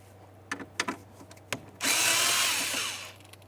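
A power drill whirs for about a second and a half, backing out a rusted Phillips head screw on a 1994-2002 Dodge Ram 2500, after a few sharp clicks and knocks, close and fairly loud.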